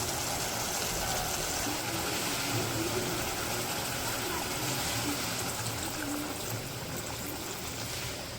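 Gravy poured over braised meat in a pot on a clay stove in a village kitchen, a steady wash of liquid noise.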